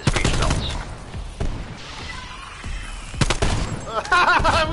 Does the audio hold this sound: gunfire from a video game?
yes